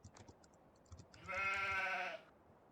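Sheep in the farming game Farming Simulator 15 lets out a single drawn-out bleat over faint keyboard clicks.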